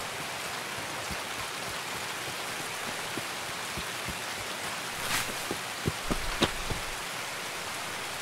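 Rain falling in the video game Escape From Tarkov, a faint, even hiss with a few soft scattered taps and thumps, no talking.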